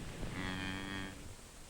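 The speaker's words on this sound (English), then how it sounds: "I was out there with Eddie at the crack of dawn, chasing cows or whatever else needed doing." A single cow lowing on a farm, one sustained moo of about a second over a noisy background, moderately close with no talk.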